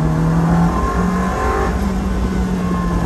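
A 2003 Ferrari 360 Spider engine roars loudly and steadily close by, its pitch climbing as it accelerates hard to 80 miles an hour.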